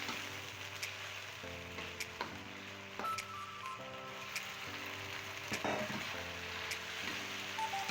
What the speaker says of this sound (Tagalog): Gigisahin din lang natin ito at hahaluin ng hahaluin para maging pantay ang pagkakaluto nito.